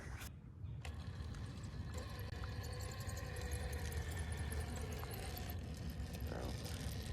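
An RC crawler fitted with a tow setup and a 2300 kV motor crawls over dirt, giving off a continuous whirring, gear-grinding mechanical drone with small clicks and rattles, close and steady all the way through.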